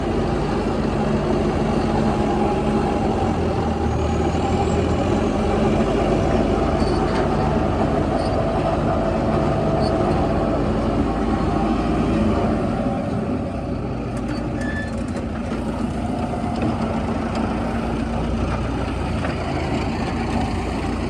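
A new 655 tractor pulls a super seeder in a field, its engine giving a continuous, loud, heavy rumbling drone that stays steady throughout with no talking.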